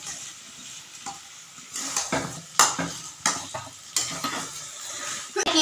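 Banana flower mixture stirred in hot ghee in a pan, with a bright continuous sizzle and repeated clinks and scrapes of a spoon against the metal, loud and close, with no speech.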